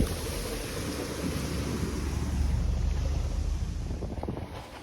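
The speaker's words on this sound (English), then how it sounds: "the whole boat comes out of the water, and you can see how fast it's going" A wooden speedboat races across the water with a steady engine drone, splashing hull noise and heavy wind buffeting the microphone.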